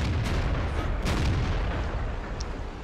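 Tank cannon fire in the World of Tanks video game: a dense, continuous rumble of battle noise with a few heavier booms standing out, loud and close throughout.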